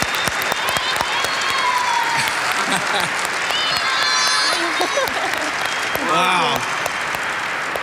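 Audience applause fills a business forum hall, dense sustained clapping from a large crowd throughout, with a person briefly exclaiming over it.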